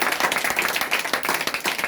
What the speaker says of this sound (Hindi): हम चाहेंगे आप लोग अपने लिए एक बार जोर तालियां बजाएं।